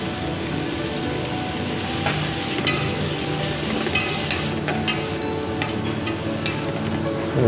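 Onion, crushed ginger and garlic frying in oil for chicken majboos, a steady close sizzle and crackle with scattered pops, constant throughout with no talking.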